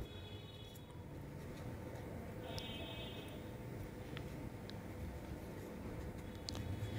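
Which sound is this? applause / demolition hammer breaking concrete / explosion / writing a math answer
writing a math answer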